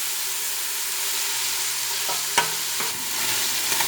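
Onions and garlic browning in a hot pan for Cuban vaca frita: an even, close sizzle hisses steadily, with a couple of crisp stirring clacks midway and softer scrapes near the end.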